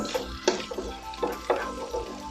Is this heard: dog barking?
no